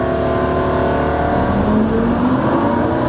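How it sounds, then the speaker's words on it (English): A twin-turbo E85 Lamborghini Superleggera engine drones loudly on a dyno held at 5000 rpm, steady high revs at a constant pitch with a slight rising tone partway through, continuous and close. "So the dyno will hold the engine at 5000."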